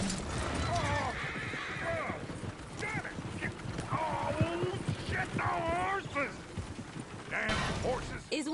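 In Red Dead Redemption 2 gameplay, a horse whinnies several times over clip-clopping hooves, with a dog barking and a voice in the background.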